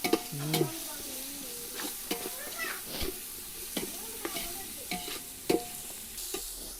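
Onions sizzle as they fry in a pan, with a utensil scraping and stirring in repeated clinks and strokes over a steady hiss, close up and loud.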